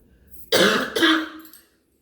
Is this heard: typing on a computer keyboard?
no